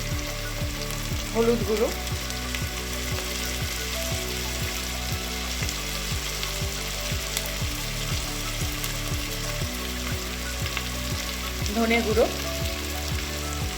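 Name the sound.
onions frying in oil for veg pulao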